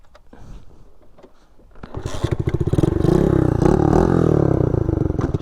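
A small motorcycle engine is started: quiet clicks and handling noises give way at about two seconds to a close, loud idle that settles into a steady throbbing rumble.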